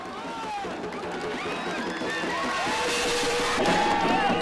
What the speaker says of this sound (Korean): 응원자들은 열광적인 환호를 올리며 선수들을 축하해 주었습니다.